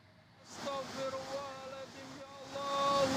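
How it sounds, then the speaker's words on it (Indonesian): A flash flood torrent rushes through Wangandoso village in Pekalongan, Central Java, a loud, steady roar of water that swells toward the end, with wind noise and a tonal hum above it. "Derasnya aliran air membuat sejumlah warga panik."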